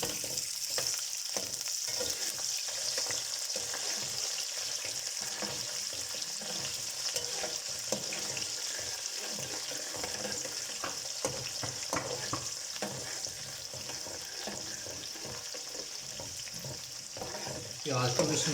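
Onions frying in a pan of hot oil while a vegetable biryani is made, giving a steady, dense sizzle with occasional stirring scrapes throughout, close and continuous, with no talking.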